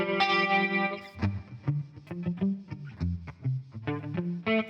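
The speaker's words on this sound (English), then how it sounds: "So this is the chorus effect." Electric guitar played through a chorus effect from ToneX captures of a Matchless Laurel Canyon amp, a sustained chord followed by a run of plucked, shimmering notes with a slightly distorted, doubled tone, alone and fairly close.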